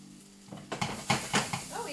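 Onions sizzling and frying in a pan for Philly cheesesteaks, a steady close hiss with a few scraping stirs of a utensil over it.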